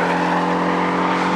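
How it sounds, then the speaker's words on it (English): A Porsche Cayman flat-four engine running with a buzzy, throaty, Subaru-like note, steady and fairly loud for a moment, with no voices. "there's a little bit of a Subaru engine note to the new Porsche Cayman"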